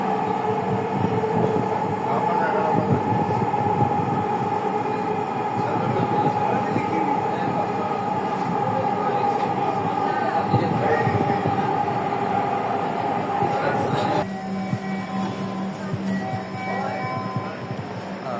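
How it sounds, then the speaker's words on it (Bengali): A Dhaka Metro Rail train at the Dhaka University station runs with a loud, steady rumble and a sustained tonal whine. The sound shifts and thins slightly near the end, and faint voices may sit beneath it. "মেট্রো রেল থেকে নামলাম আমি"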